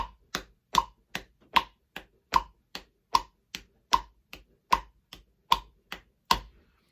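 Steady hand taps or snaps in an even eighth-note pulse, alternating strong and softer hits, about two per second, close and dry with nothing between them.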